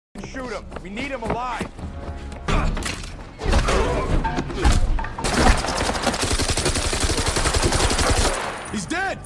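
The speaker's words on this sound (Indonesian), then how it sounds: "Dalam baku tembak yang terjadi, Dayton berhasil membunuh salah satu partner Jack." A film shootout erupts in rapid gunfire: scattered shots and impacts build into a dense, loud volley of automatic fire lasting several seconds, with voices heard amid the action.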